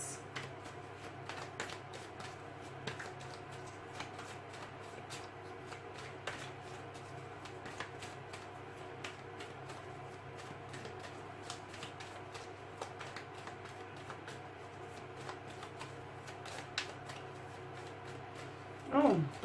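Tarot cards being shuffled, a soft continuous riffling and flicking of cards close by, quiet and steady, with a faint voice at moments.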